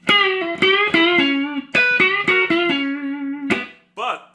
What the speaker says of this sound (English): And a great bluesy neck pickup.